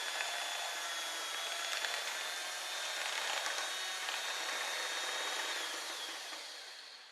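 White chocolate ganache being beaten together with butter, a steady whirring motor with a faint scraping rub running nearly unbroken throughout, fading slightly toward the end, with no talking.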